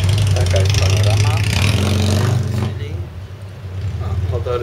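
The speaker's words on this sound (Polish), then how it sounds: "O, motory słychać" Motorcycle engines rumble steadily outside a hotel overlooking the port in Olbia, Sardinia, with revving rising and falling beneath loud nearby talk that fades out partway through.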